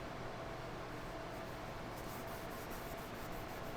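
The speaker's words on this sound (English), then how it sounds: "I got a rag with a little acetone here to clean up the shaft" Acetone-soaked rag rubbed over a metal shaft on a Morey vertical shaper under restoration, a steady close-up scrubbing hiss that continues without pause, faintly livelier toward the end.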